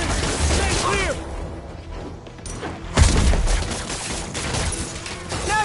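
Gunfire crackles in rapid bursts during a Spider-Man game fight, loud and close, with a heavier thump partway through and voices shouting around it.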